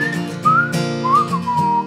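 A person whistles a short melody with gliding, sustained notes over a steady musical backing, close and clear.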